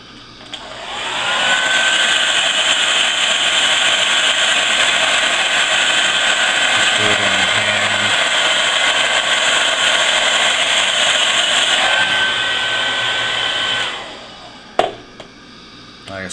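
A hair dryer blows steadily for about twelve seconds, a loud close whir heating a gun part coated with Frog Lube, then switches off and winds down, followed by a few faint clicks and handling knocks.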